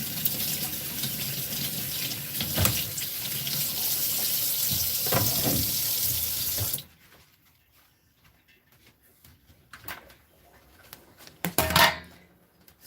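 Potatoes rinsed under a running kitchen tap, a steady rush of water into a sink with some clatter, then the tap shuts off, leaving quiet handling and a few clinks of dishes.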